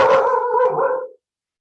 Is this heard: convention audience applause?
no